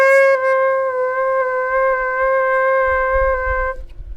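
A Xaphoon pocket sax played with a finger placed wrongly over a hole, giving one sustained, slightly foggy reed note with a hint of squeak, steady for about three and a half seconds before it cuts off into low rustle.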